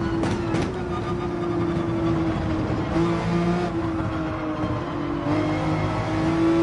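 A racing car's engine under light throttle in Gran Turismo 7, a steady droning hum with a slowly shifting pitch, loud and close, held throughout without any talk.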